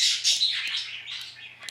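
Outdoor birds squawk and chirp in a brief, loud flurry of shrill overlapping calls that fade slightly toward the end, with no voices present.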